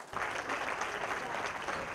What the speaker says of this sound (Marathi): त्या दिव्यांग व्यक्तींसाठी जरा जोरदार एकदा टाळ्यांचा कडकडाट.